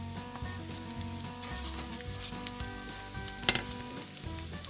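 Garlic and onions frying in a pan with a teaspoon of curry powder, a low steady sizzle with faint stirring and one brief sharp clink near the end, fairly quiet.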